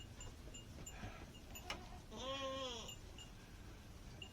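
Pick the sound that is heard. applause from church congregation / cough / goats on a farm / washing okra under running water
goats on a farm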